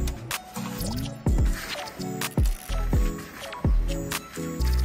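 Wet bioactive substrate for a dart frog terrarium being stirred by hand, giving repeated close squelching, dripping squishes in an uneven rhythm with no talking.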